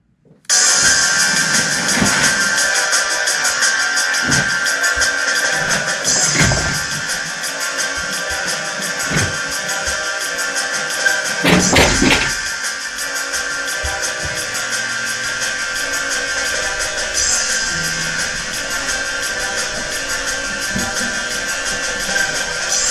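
A dense electronic synth punk beat made in Ableton, with bright, buzzy synth layers and punchy drum hits, loud and continuous throughout with no voices.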